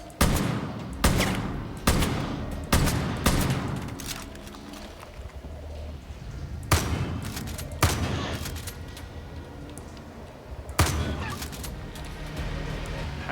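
Gunfire in the video game Far Cry: New Dawn, aimed at a creature: loud bursts of shots in several volleys, with some quieter stretches between them and no talk.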